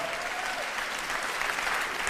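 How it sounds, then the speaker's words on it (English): Audience applause at a Dave Chappelle stand-up comedy show: a dense, steady wash of clapping from a large crowd that holds at an even, loud level for about two seconds. "you see how they're clapping?"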